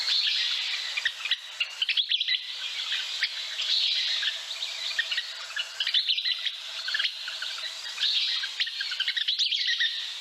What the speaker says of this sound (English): This sound file will go on like that for about 5 minutes, so I'm going to turn him off.